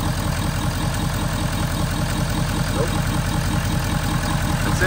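Ford 6.7 Powerstroke diesel truck engine from a 2011–2016 model idling steadily after a fresh injector install, a continuous low rumble holding even throughout, with a faint voice briefly present.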